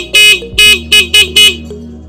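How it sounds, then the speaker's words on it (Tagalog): A stock car horn, wired to a switch, honks five short loud blasts in an uneven rhythm, each blast a bright harmonic tone close to the microphone. "So, gumagana na po yung stock horn."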